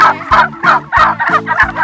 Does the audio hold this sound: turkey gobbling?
yes